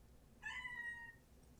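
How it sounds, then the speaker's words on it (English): A house cat gives a single clear meow lasting under a second, fairly faint and nearby in an otherwise quiet room, with no talk around it. "My cat seems to be pretty happy with this."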